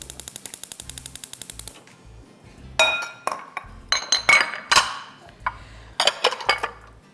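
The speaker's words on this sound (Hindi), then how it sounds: "बर्तनों को साथ साथ समेट लीजिए" Metal cooking pots and utensils being gathered in a kitchen while making seafood soup: a quick run of light rhythmic taps, then loud irregular clanks and clinks, each close and sharp.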